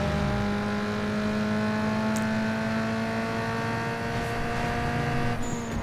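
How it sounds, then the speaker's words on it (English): Turbocharged tuner car engine in Need for Speed Underground 2 holds a steady, loud droning whine with rising harmonic tones as the turbo spools, ending with a brief airy hiss from the blow-off valve. "Here, it's spool up. And the blow off valve."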